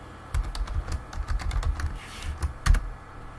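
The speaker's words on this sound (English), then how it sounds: "I'm going to enter my password." Someone types a password on a computer keyboard, a quick, steady run of close, crisp key taps with a slightly heavier keystroke near the end.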